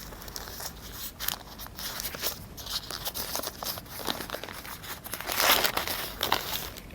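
Oil paper wrapped around a fuel injector valve assembly crinkles and rustles close by as it is unwrapped, a run of crisp, irregular crackles that grows busier toward the end.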